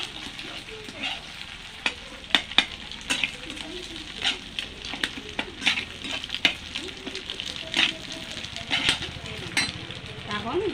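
Spices and turmeric powder frying in a pan for a bitter eggplant dish, a crackling sizzle broken by frequent sharp spatula scrapes and taps against the pan, close and busy throughout.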